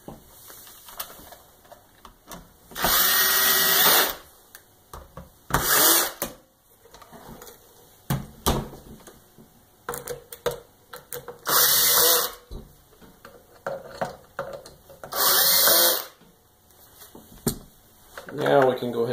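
Power drill driving screws into a Kirby Sentria II vacuum cleaner during reassembly, in four separate loud whirring bursts of two to three seconds each, with quieter clicks and handling noises between them and a voice talking in the gaps.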